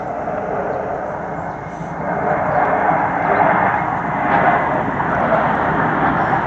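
A low-flying aircraft passes overhead with its landing gear up, a loud, broad engine roar that builds toward the middle and stays strong to the end, with no clear talk.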